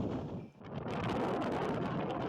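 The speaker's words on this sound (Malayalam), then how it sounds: "നല്ല ശക്തമായ കാറ്റ് വീശുന്നത് കൊണ്ട്" Strong wind near the sea at Ervadi, Tamil Nadu, roaring steadily into the microphone, a broad buffeting rush with a brief lull near the start, no voices.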